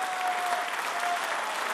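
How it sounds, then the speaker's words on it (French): Steady applause from a large audience, dense clapping filling the room for a couple of seconds without a break. "toute la salle se lève, et tout le monde applaudit"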